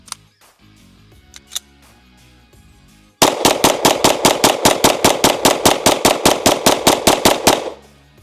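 Rapid string of about twenty loud, evenly spaced gunshots from a regular 4-inch pistol, fired in quick succession after a few seconds of quiet handling sounds, then stopping abruptly.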